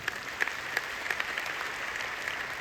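Sustained applause from a large audience at a seminar hall gathering in Patna, a steady dense patter of many hands with a few sharper claps standing out, fairly distant and even throughout.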